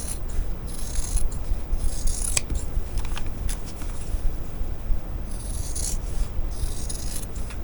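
Scissors snipping through fabric for Easter bunny placemats, close and crisp with repeated cutting strokes and rustling of the cloth, continuous with no voices.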